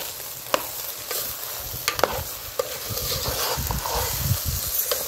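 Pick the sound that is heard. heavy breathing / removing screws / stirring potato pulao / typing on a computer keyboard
stirring potato pulao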